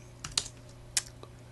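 Keystrokes on a computer keyboard, a few sparse clicks close up over a low steady hum, with no voices.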